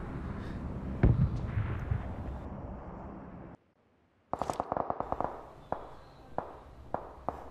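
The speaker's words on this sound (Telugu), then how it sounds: "బయట ఎక్కడో బాంబుల మీద బాంబుల వర్షం జరుగుతుంది." Explosions from a bombing zone in the battle royale game PUBG rumble in a dense, low wash, then after a short silent gap a rapid series of sharp, crackling blasts follows, distant and repeated.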